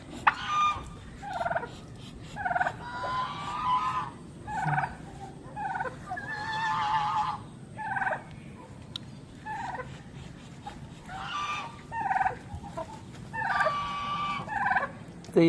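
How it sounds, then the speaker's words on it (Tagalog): Farm turkeys gobble repeatedly in bursts, several rapid warbling calls following one another every second or two, fairly close and loud against a low background murmur. "Naman yung pabo natin, ang taba."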